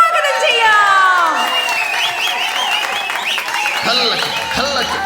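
An audience at a hospital staff cultural evening in Kochi applauds to welcome a group of singers, a dense patter of clapping mixed with musical tones and cheering.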